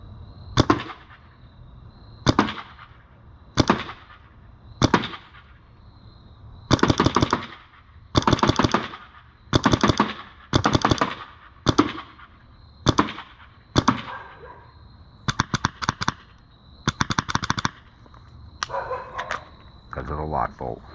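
An EMF100 blaster with a continuous feed magazine fires outdoors in a backyard, a series of sharp, loud bursts, some single and some in rapid clusters, with short gaps between them.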